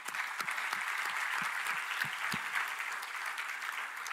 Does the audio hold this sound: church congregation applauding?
yes